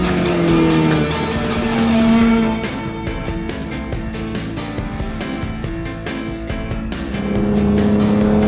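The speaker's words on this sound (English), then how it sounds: "while Ben was out turning laps in the MR2" A Toyota MR2 race car laps a track, its engine loud and continuous with shifting pitch as it revs, brief tire squeal and passing roar throughout, with no talk.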